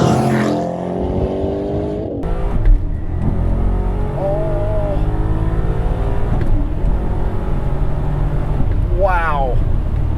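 A Maserati with a slipping clutch accelerates hard, its engine note climbing steadily and loud throughout, with someone talking over the roar.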